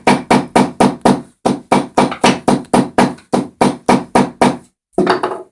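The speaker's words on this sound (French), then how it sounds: "je vais assouplir un petit peu le cuir au niveau du contrefort en martelant la chaussure" A hammer pounds the heel counter of a leather shoe to soften it, about fifteen quick, sharp, evenly paced strikes in a steady rhythm, close and loud, with a short pause before a final softer blow.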